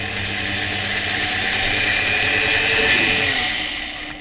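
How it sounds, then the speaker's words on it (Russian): A steady, high-pitched power drill whine runs continuously at close range as it drills into the plastic of an Acer Aspire E1-571G laptop, with a broad grinding hiss and no speech. "И сверлим."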